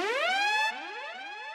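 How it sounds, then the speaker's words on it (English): A synthetic siren sound effect for a speed garage track wails, its pitch sweeping upward and then repeating in quick rising swoops, clear and isolated. "I'm gonna add this siren sound also from our Ignite pack"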